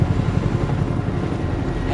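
Helicopter passing overhead, a loud, steady, close rotor thrum with a low pulsing beat throughout, no voices.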